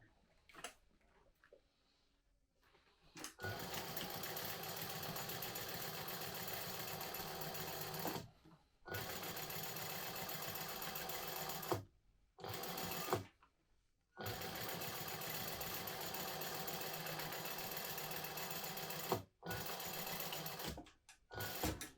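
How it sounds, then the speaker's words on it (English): A sewing machine top stitches a seam in bursts of rapid, even clatter separated by brief silences, starting after a quiet opening and running close and steady. "now you're going to top stitch this at 1/8 of an inch with the seam facing down"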